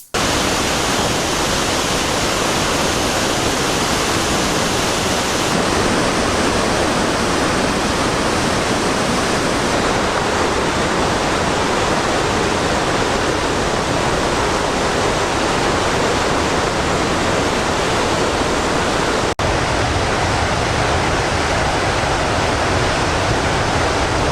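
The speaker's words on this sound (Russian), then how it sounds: "Конечно же, в Викторию-Фоллс едут за тем, чтобы посмотреть на огромный водопад Виктория." Victoria Falls roaring as a loud, dense, continuous wash of falling water, steady and unbroken, with no voices.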